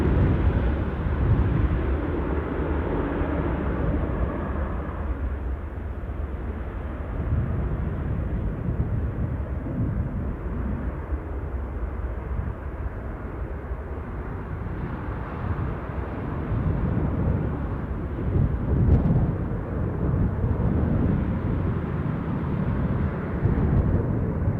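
A jet aircraft's engine blast at Newcastle airport, a loud, steady broadband roar that holds for the full stretch with slight surges.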